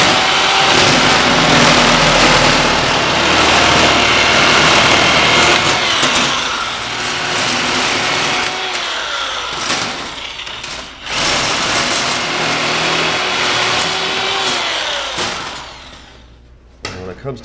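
Double-cut power shears slicing through sheet metal for a custom chopper seat pan, a loud buzzing motor whine with pauses and restarts as the cut follows the line.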